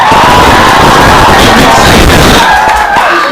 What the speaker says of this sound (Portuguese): Vamos lá, aplausos pra Lucimara.